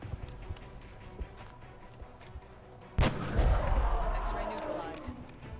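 A single gunshot in the turn-based strategy video game XCOM: Enemy Within fires about midway as a sharp loud crack, and a rumbling boom trails off after it over low game ambience.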